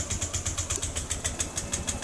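A scooter engine, ridden in Thailand, turns over and settles into a steady idle with a fast, even putter that runs close and clear with no talking over it.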